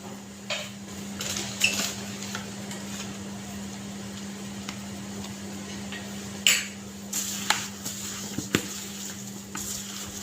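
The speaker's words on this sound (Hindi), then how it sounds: "इसको अच्छे से मिक्स कर लूँगी ताकि इसकी अच्छी से कोटिंग हो जाए।" Marinated chicken is tossed with cornflour in a bowl. Irregular clinks and clatters of a utensil against the dish sound over a constant kitchen hum, a few louder knocks stand out, and no voice is heard.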